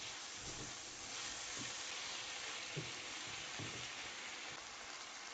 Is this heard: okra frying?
yes